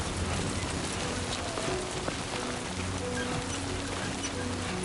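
Timefall rain in Death Stranding 2 patters steadily on surfaces as dense, even hiss throughout, with no voices.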